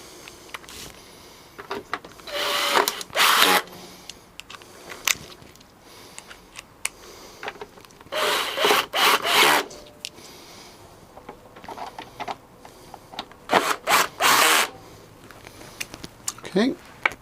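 A power drill drives screws back into a 2016 Triumph Speed Triple motorcycle during an Arrow exhaust swap, with several short whirring bursts spaced apart, close by, between quiet handling noises and some talk.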